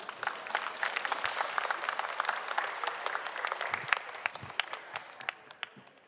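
An audience at a public radio broadcast marking a tenth anniversary applauds as a singer comes on stage: steady, fairly distant clapping from a sizable crowd.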